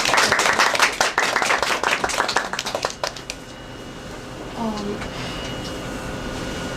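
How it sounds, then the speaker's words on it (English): Applause for presenters at a lab seminar, a burst of clapping from a small audience that fades away after about three seconds into quiet room noise. "let's give applause to the presenters"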